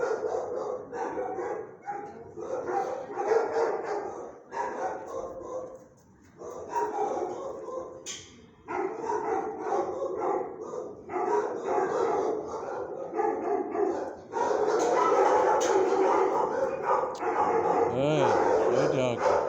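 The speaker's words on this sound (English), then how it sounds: "Oh, it's a very good doggy." A shelter dog in a kennel barks and yips in bursts, with soft whimpers between, while a person talks soothingly over it nearly throughout.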